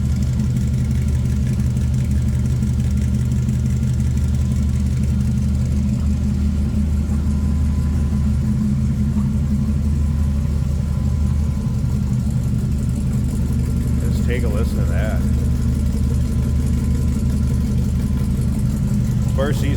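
A 1959 Chevrolet Impala four-door flat top with an LS engine and dual side-exit exhaust idles steadily with a low, constant rumble close by, and a brief click or clunk sounds near the end.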